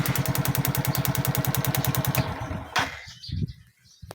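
A Suzuki Raider J115 Fi motorcycle engine idles close and loud with a steady rapid pulsing beat, then cuts off abruptly, leaving a few faint clicks and knocks.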